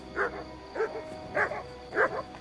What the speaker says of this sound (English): Good dog, Mats.